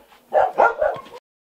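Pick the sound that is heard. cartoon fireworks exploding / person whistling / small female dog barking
small female dog barking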